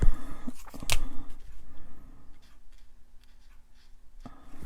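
A marker colours in a stamped Stampin' Up! barn-door card. Close, scratchy strokes come in quick bursts, with one sharp tap near the start, then softer, sparser scratching.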